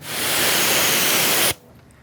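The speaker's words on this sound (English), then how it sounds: "Spray out my mitt." A loud, close burst of spraying water rinsing out a car wash mitt hisses steadily for about a second and a half, then cuts off abruptly.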